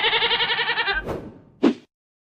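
A goat gives one long, loud, wavering bleat lasting about a second, then a dull thunk and a short sharp knock close by before silence.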